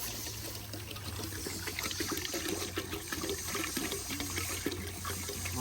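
Water streams steadily into a cooking pot at a campsite, being readied for a Jamaican soup of pigtail, chicken and pumpkin; a continuous close pour with gurgling and splashing, no voices over it.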